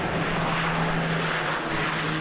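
A firefighting aircraft flying over a wildfire, its propeller engine a steady, loud droning roar with a constant low hum running throughout and no voices.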